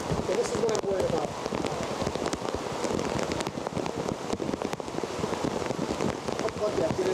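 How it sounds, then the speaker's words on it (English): Rain pours steadily at an outdoor soccer match at Langhorst Field, a dense crackling hiss of drops hitting surfaces throughout, with wind noise and faint voices underneath. "the rain does not let up"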